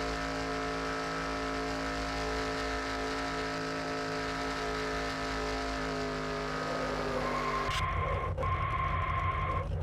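Race cars in a NASCAR video game at Talladega roar together in a dense, steady engine drone as a multi-car wreck unfolds, the pitch shifting abruptly near the end as the pack scatters.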